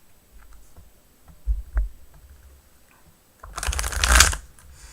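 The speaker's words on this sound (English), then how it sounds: "So we're going to shuffle this deck and put it back into the box." A tarot card deck is shuffled close up. A few soft card flicks come first, then a loud riffling burst of cards lasts about a second near the end.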